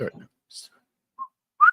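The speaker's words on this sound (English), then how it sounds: "How do you like do that whistle with your S's, sir?" Someone speaks in a courtroom with whistling S sounds: a few brief, sharp, high-pitched whistled hisses punctuate clipped speech fragments, separated by silence.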